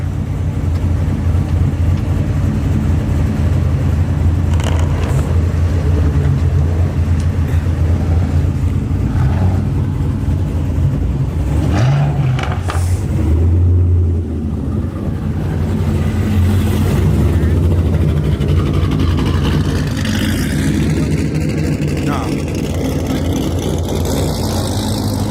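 A Shelby GT500 engine rumbles at low speed as the lowered car backs up, making a loud, steady, throaty drone close by. People talk over it throughout.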